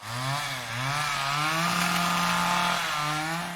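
A chainsaw roars from the 1974 horror film The Texas Chainsaw Massacre, its loud engine revving and wavering in pitch with rising and falling whines, close and continuous with no talk over it.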